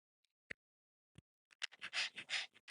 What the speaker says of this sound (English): And he's sitting in front of us, breathing like that.